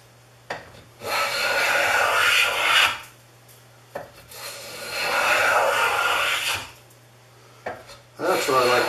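A Stanley S18 steel block plane shaves wood in long rasping strokes, three sustained close passes of about two seconds each separated by short pauses, with a low hum underneath.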